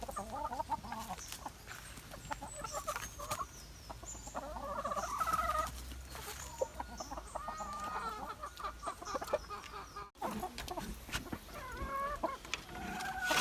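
Gamecock roosters and hens cluck and call to each other during courting, a busy mix of repeated clucks and throaty calls close by, with occasional louder bursts over a steady barnyard background.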